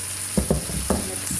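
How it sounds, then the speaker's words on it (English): Cucuzza squash goes into a hot pan and sizzles steadily, with a few soft thuds and stirring knocks over the continuous frying hiss. "I'm gonna go ahead, put the squash in."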